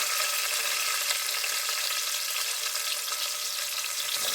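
Ginger garlic paste and onions fry in a cooker with a steady, dense hiss and sizzle, close and continuous throughout, without talk.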